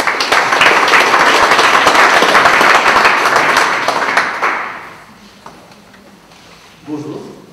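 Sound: audience applauding Pascal

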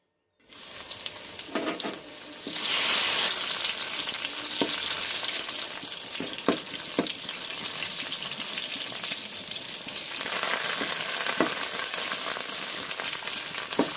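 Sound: tempering garlic, cumin, mustard seeds, dried chilies, curry leaves frying

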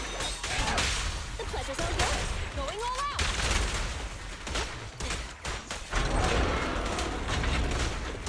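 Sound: enemy gunfire in Zenless Zone Zero video game

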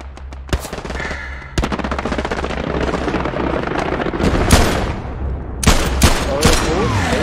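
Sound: gunshots in the video game Hell Let Loose

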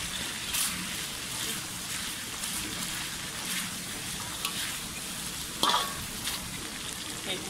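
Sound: stirring chili in a sizzling pan

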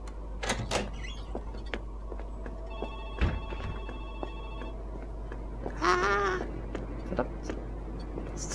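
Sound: telephone ringing in a horror video game

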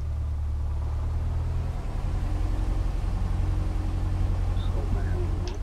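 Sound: aircraft engine taxiing in video game Microsoft Flight Simulator X

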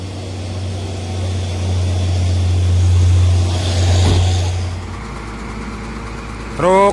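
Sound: tow truck engine being started

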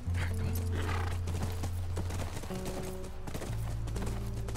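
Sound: horse neighing and hooves in The Last of Us video game

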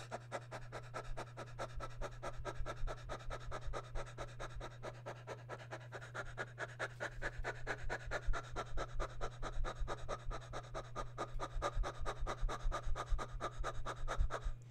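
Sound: breathing

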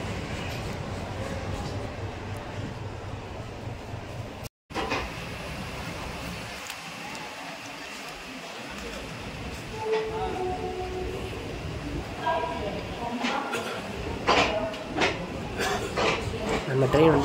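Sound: train moving out of station

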